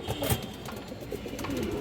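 Musoldom pigeons coo amid a noisy pigeon-keeping setting, low throaty calls running continuously under a busy, broadband background with no speech.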